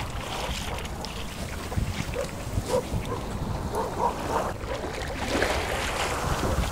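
Tour boat engine noise rumbles steadily over wind and sea water at İncekum beach near Taşucu, Mersin, with faint scattered sounds around it, and no one speaking.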